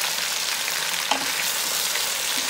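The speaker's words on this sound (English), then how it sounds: "I'm gonna put them right in this pot with these potatoes. And I'm gonna mix all that up." Sausage and potatoes sizzle steadily in a Power XL pot as they are stirred together, a close, constant frying hiss with one brief scrape midway and no voices.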